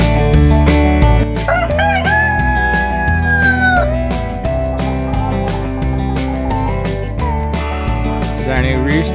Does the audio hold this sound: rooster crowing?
yes